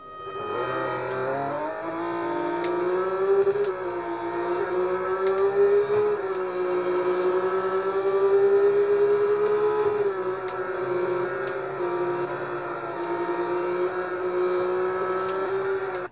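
Real Racing 3 mobile racing game audio played on an Android TV box: a continuous, loud engine drone with shifting pitch as cars accelerate and shift gears, sustained throughout with no speech.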